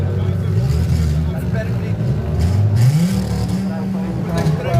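An Audi RS3 five-cylinder engine at a drag day revs up and down in rising and falling pitch sweeps, fairly close, with a voice talking over it.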